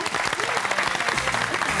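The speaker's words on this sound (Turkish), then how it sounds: "Gelmeden alkışlar geldi." Studio audience applause on the Turkish word game show Lingo Türkiye, a dense, lively burst of clapping that stays loud and even throughout, with a faint murmur of voices beneath.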